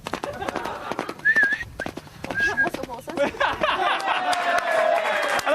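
An escaped horse runs loose with hooves clip-clopping amid a noisy crowd, with people shouting and talking over it and a whistle cutting through.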